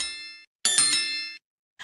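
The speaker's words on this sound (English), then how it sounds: "Ring that notification bell." A bright bell-like notification ding rings twice, a short tone and then a longer ringing one, with the start of a third cut off at the end. Each is clear and isolated against silence.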